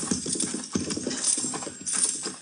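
Horses' hooves clip-clop at a walking pace in a radio drama sound effect, with several animals moving together in irregular overlapping clops against a soft hissing background.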